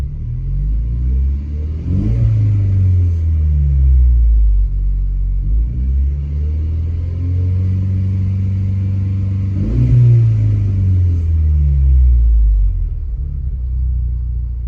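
A 2019 Ford Ranger with an SPD downpipe and no exhaust gives a loud, deep, open rumble up close. The throttle swells twice, at about two and ten seconds, each time before settling back to a heavy drone. No one talks.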